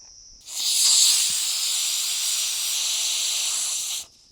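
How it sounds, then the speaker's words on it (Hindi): A loud, steady hiss of steam bursting from a pressure cooker whistle, starting abruptly and holding for several seconds before cutting off. "तब 4 से 5 विसल आने तक इसको ऐसे ही रखेंगे।"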